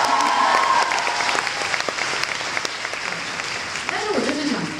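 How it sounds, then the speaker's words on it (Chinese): A concert audience breaks into applause and cheering during a singer's stage talk at a live show, sustained crowd clapping that fades slightly, with a voice speaking near the end. "有没有掌声鼓励一下？"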